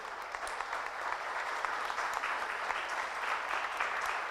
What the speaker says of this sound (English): can I get a round of applause from everyone so I know where you all are sitting?